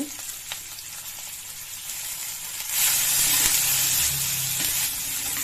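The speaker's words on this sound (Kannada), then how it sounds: "ಹಸಿ ವಾಸನೆ ಹೋಗೋ ತನಕ ಫ್ರೈ ಮಾಡ್ತೀವಿ" Tomato, ginger, garlic, fennel, cumin and green chilli fry in a pan with a steady, close sizzle that swells louder and hisses more brightly partway through, alongside occasional stirring scrapes and no voices.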